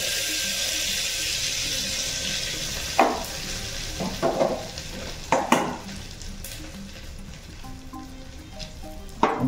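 Cumin seeds crackling in hot oil in a clay pot, a continuous soft sizzle broken by several sharp clanks and scrapes of a utensil against the pot.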